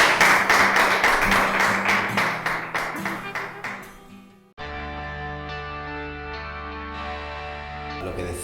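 An audience at an education event claps together for a few seconds in a rhythmic burst that fades away, then a steady tone takes over.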